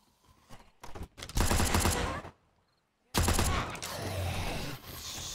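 Gunfire in the zombie survival game 7 Days To Die: sustained loud bursts of rapid shots, a short pause, then another long dense volley, with heavy echoing blasts.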